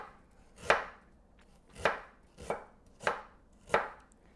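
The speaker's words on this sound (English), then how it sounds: "So cut the ginger thinly so that in a way that you're cutting the fibers really short." A knife slices thinly through fresh ginger on a cutting board, five crisp separate chops in an unhurried, fairly even rhythm, close and clear with no talking.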